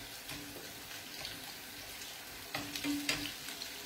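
Oil sizzles and crackles steadily as artichokes fry in a pan, with a few louder spatters and a brief clink of utensils, no talking.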